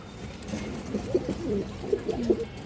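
Pigeons coo nearby in a few soft, throaty, rolling calls close together.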